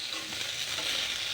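Chicken pakora fries in a pan with a continuous bright sizzle, close and steady, as the pieces are stirred.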